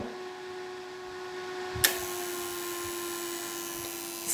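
A homemade inverter with a cooling fan sits at a low, quiet hum, then a sharp click switches it on and a steady, brighter whirring drone rises and continues to the end.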